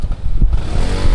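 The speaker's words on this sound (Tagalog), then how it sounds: "Ikot ko lang tong aking motor." Motorcycle being ridden around a lakeside campsite, a loud close engine rumble with rough low-end throb throughout a brief moment.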